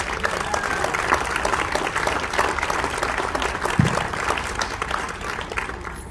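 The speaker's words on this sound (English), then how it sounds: "another round of applause for our inductees tonight" An audience applauds hall of fame inductees at a hot dog hall of fame ceremony, with dense sustained clapping from a large crowd throughout and some voices mixed in.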